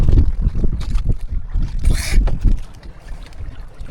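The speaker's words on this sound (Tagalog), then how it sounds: "Lakas na rin yung hangin mga bay" Strong wind gusting over an island shore with growing waves, buffeting the microphone in loud, rough rumbles, water and boat noise mixed in.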